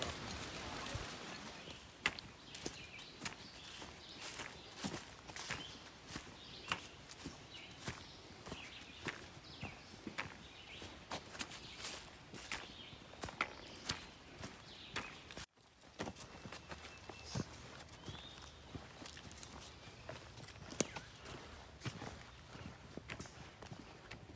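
Several horses pass one after another on a wilderness backpacking trail, their hooves giving a steady stream of clip-clop steps at moderate distance, with faint birds and occasional low voices in the background.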